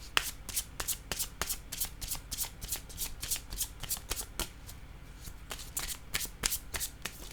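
Tarot cards are shuffled by hand close up, giving a quick, steady series of crisp riffling snaps with a slight pause midway before the rhythm resumes.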